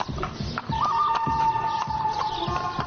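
Horse ridden through neighborhood streets in Niğde, Turkey, by a rider in cowboy costume: steady clip-clop hoofbeats close by, with a brief neigh partway through.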